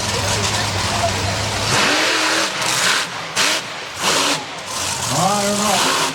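A monster truck engine roars and revs loudly during a wheelie competition at a monster truck show at Bolton Fair, rising and falling in pitch, with an announcer talking over it.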